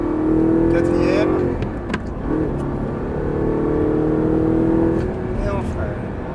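An Audi R8 accelerates hard on a race track, the engine droning and rising in pitch through the gears with a brief dip, loud and close from inside the car, while someone talks over it.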